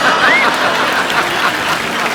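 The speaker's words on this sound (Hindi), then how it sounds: "अच्छा, तालियां।" A studio audience at a television comedy show claps in a steady, loud wash of applause that lasts the whole two seconds, with a faint voice underneath.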